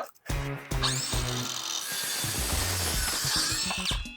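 A hand saw cuts through wood outdoors by the water, a loud, steady rasping grind that runs almost unbroken for about four seconds after a brief start.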